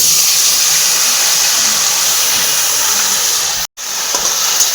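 Potatoes frying in oil give a loud, steady sizzle as turmeric and spice paste go into the pan for shukto, a Bengali mixed-vegetable dish. The hiss stays constant, cuts out for a moment near the end, then resumes.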